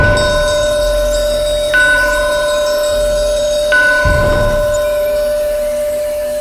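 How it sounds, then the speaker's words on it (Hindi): Temple bells ring together in a sustained, loud metallic chime with long ringing tones and repeated strikes that blend into one continuous resonant wash. "जोर से मंदिर की घंटियां एक साथ बजने लगी"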